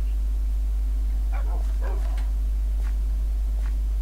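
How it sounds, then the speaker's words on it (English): Dogs in a video game give a few short barks and yips over a steady low hum, faint and sparse across a few seconds, with no talking. "I believe I am very well protected with dogs,"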